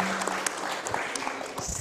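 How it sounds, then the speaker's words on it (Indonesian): A podcast audience gives a short burst of applause, scattered clapping lasting under two seconds with a voice speaking over it. "Boleh kita beri tepuk tangan?"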